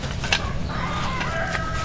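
Chicken clucking and crowing rise in short bursts over a steady background, with a few sharper calls standing out; the fowl sound close and moderately loud.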